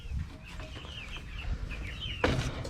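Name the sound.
Rhode Island Red chickens clucking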